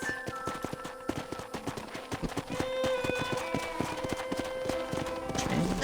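A ridden horse's hooves beat a steady, brisk clip-clop in the Red Dead Redemption western game. The sound is close and constant, with faint talk and a whinny-like flourish at the end.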